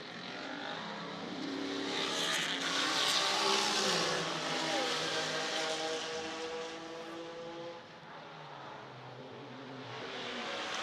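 Historic IMSA GTO race cars, led by a red, white and blue Nissan, roar past on a circuit toward a hairpin: a loud engine note swells and then fades as the cars pass, with steady revving and no voices.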